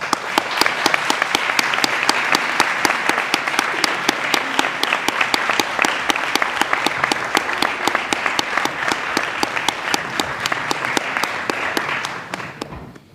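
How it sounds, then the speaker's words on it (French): Audience at a mock trial of Napoleon Bonaparte applauds the winning side and the acquitted defendant, dense steady clapping filling the room for about twelve seconds before tapering off at the end. "J'aimerais donc que nous applaudissions très brièvement le camp vainqueur et l'acquitté de ce soir."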